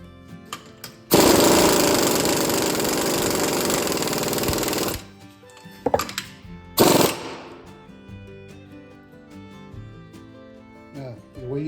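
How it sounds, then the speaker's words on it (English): An impact wrench tightens the axle nut on a 2008 Kia Optima during a front wheel bearing replacement: one long, loud buzzing burst of several seconds, then a shorter burst, followed by quieter clinks from the work. "I'm going to go ahead and tighten up the axle."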